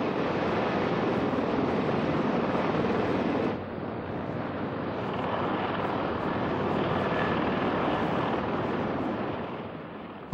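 Canadair CL-84 tilt-wing aircraft engines roar steadily and loudly in a dense broadband drone, easing slightly partway through and fading a little at the end.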